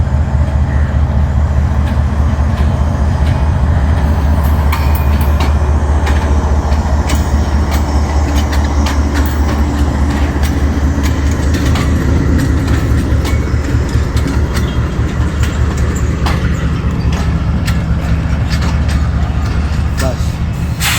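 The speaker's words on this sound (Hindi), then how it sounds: "अब 13 अप अवाम एक्सप्रेस का डिपार्चर" The 13 Up Awam Express pulls out of Dina railway station with a loud, continuous rumble and rhythmic clickety-clack of wheels over rail joints, nearby and sustained, while people talk in the background.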